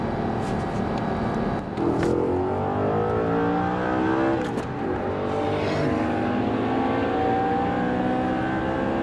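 A Bugatti Veyron and an Audi R8 accelerate hard in a race, their engines roaring steadily and loudly for the whole stretch, with rising whine and pitch climbing through several gear changes.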